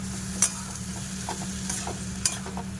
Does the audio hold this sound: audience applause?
no